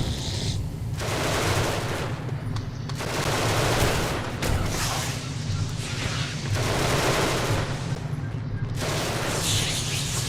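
Rapid, dense bursts of automatic weapon fire from the sci-fi game Genesis: Alpha One roll in long sustained volleys with short gaps between them, loud and booming, with brief voice callouts mixed in.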